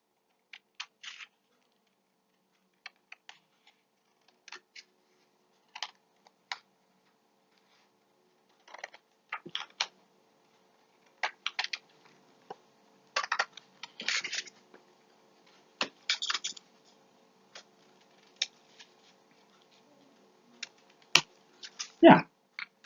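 Scissors snip through a paper rectangle to make two shapes, producing faint, scattered clicks and crisp cuts in irregular bursts over a quiet room.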